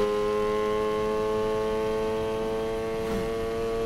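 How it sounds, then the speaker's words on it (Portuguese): A tuned Mazda RX-7 in Need for Speed Payback gives a loud, steady engine drone with strong harmonic hum and exhaust roar, held constant without pauses. "olha esse escape, o barulho ficou muito monstro"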